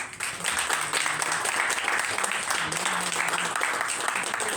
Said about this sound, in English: Let's do a round of applause for Melissa.